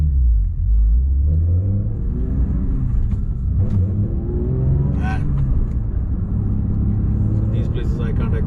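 Porsche 911 GT3 Touring engine pulling hard under acceleration, a loud steady low rumble with rising revs from inside the car, with a voice talking over it.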